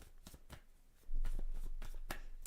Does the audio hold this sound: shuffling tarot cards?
yes